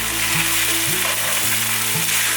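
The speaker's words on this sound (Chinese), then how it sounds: "豆腐煎至金黄色后，可以沿着锅子边缘把豆腐翻面" Tofu slices pan-fry in oil as a loud, steady sizzle that fills the whole stretch, with a low hum pulsing underneath at a regular beat and no talking.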